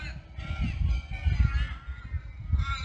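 Geese and other waterbirds honk and call loudly at a local lake, a dense, continuous chorus of overlapping calls heard close by with a low rumble beneath.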